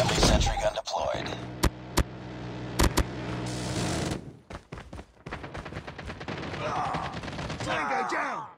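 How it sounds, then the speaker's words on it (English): Automatic gunfire rattles in rapid staccato bursts in a Call of Duty: Mobile multiplayer match on Scrapyard, loud sharp shots and thuds with a voice speaking in between. "Friendly sentry gun deployed."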